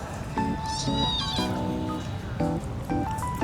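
A cat meows repeatedly in a series of short, insistent, nasal cries, close and loud, with faint background noise between them.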